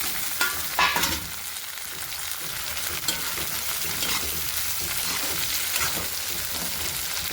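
Tomato frying with garlic paste in a pan while making sambhar, a loud steady hissing sizzle with occasional stirring scrapes close by, no voices.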